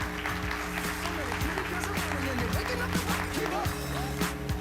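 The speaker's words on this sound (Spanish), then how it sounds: "Merece un aplauso." Audience applause, steady and fairly loud throughout, with a low hum and some faint voices mixed underneath.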